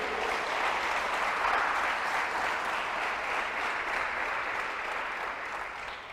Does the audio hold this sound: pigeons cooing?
no